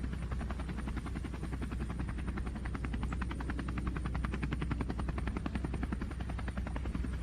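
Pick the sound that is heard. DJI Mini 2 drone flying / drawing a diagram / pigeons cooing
DJI Mini 2 drone flying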